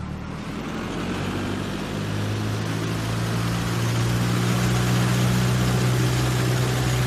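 A Cessna C-172 piston engine idles at 1800 RPM in the FSX flight simulator, a steady low drone with a constant throb that stays even and close throughout, slightly louder toward the end.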